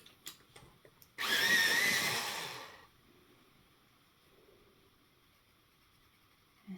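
A colored pencil is ground in a motorized sharpener, a loud whirring burst of about a second and a half that tapers off, framed by quiet clicks and handling noises.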